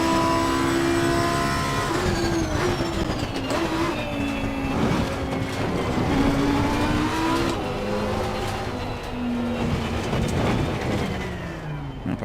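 Lamborghini Huracan GT3 race car at Zolder or Zandvoort in Assetto Corsa Competizione, engine pitch stepping down through repeated downshifts under hard braking, then rising again as it pulls away, loud and continuous with no voices.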